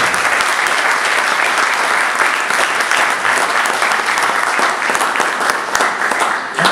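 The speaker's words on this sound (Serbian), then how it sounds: "Ja vas molim još jedan veliki aplauz za naše goste." An audience gives loud, sustained applause for the guests at a poetry book launch at a cultural centre in Kikinda, many hands clapping in a dense, even wash for nearly seven seconds with no voices over it.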